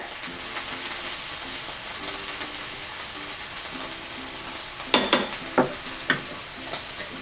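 Soy sauce, chili sauce, pepper and coriander powder sizzle steadily in a hot pan while a spoon stirs, with a few louder scraping clacks toward the end and no talking.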